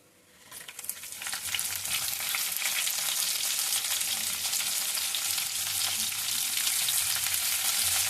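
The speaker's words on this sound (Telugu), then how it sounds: "నెక్స్ట్ ఉల్లిపాయలు వేస్తారు" Onions dropped into hot tempering oil for a vegetable upma burst into loud sizzling after a quiet start, then a steady, close frying crackle with faint stirring continues to the end, no talk.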